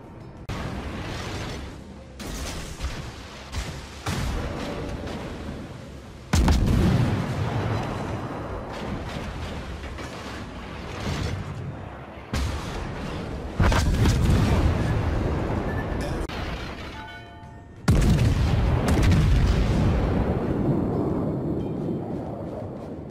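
Naval artillery in the World of Warships video game: heavy booming salvos strike in several loud bursts, each one followed by a long rumbling decay, amid constant battle noise.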